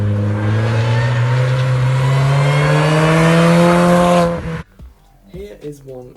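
A supercharged hatchback engine revs hard with a rising, droning tone for several seconds, then cuts off abruptly, followed by a voice talking.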